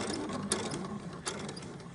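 A sewing machine stitches a shirt seam up close, giving a rapid mechanical whir with a couple of sharp clicks as the needle stops. No one speaks.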